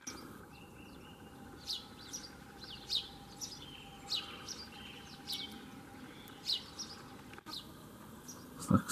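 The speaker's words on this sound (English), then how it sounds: "Birds, beautiful birds" Birds sing outdoors at dawn, with short bright chirps repeating every second or so over a steady hum and faint background hiss. The calls come at a moderate distance and no one talks.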